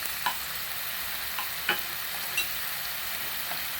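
Chicken with chopped ginger and garlic sizzles steadily in a pan, a continuous frying hiss broken by a few soft scraping stirs of a spoon, close and moderately quiet with no voices.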